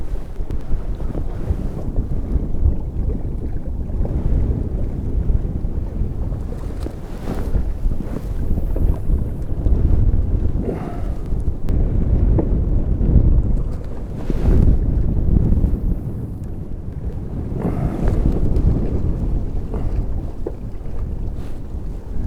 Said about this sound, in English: The crosswind is bad.